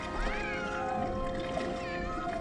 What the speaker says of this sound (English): Would someone shut that cat up?